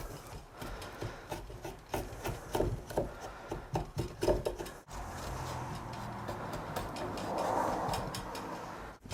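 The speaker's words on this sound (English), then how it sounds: "Hold it flat so when you're shaving, it just peels it off." Knife blade shaving and peeling thin strips from wood while carving an ox yoke, a series of close, uneven rasping strokes for the first half, then a steadier continuous scraping.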